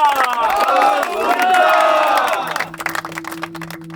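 A crowd at a Clipper Round the World Yacht Race event in Punta del Este, Uruguay, cheers and whoops loudly and continuously, then fades into scattered shouts and claps.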